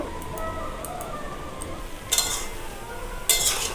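Kochu shak greens being stirred in a pot, with a low, steady cooking hiss and two short bursts of spoon scraping, plus a few faint clinks early on.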